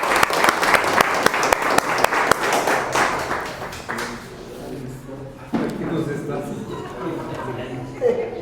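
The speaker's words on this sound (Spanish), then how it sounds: "Un aplauso, por favor, para Nelson y" An audience applauds the Herrera Arauz brothers, Nelson and Daniel, at a community talk about Cotocollao; steady loud clapping for about four seconds, then fading into crowd murmur and talking.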